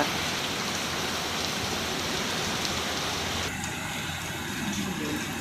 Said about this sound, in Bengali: বিশাল জোরে বৃষ্টিটা হচ্ছে